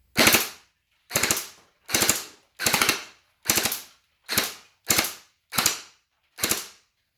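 Type97 gel blaster with a standard gearbox and 7-volt battery firing through a chronograph, nine separate sharp mechanical shots spaced about a second apart, close and clear with silence between.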